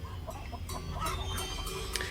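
Chickens cluck softly in a chicken coop in a horror film scene, a few scattered clucks over a low rumbling background, fairly faint.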